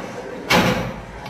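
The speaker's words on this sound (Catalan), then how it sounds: "Mira, que se sent que la porta." A door opening once with a short sharp rattling thud, loud and close, followed by quiet room tone and no talk.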